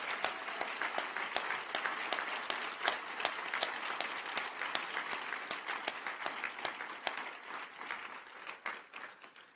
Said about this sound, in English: So let's give a round of applause to the families.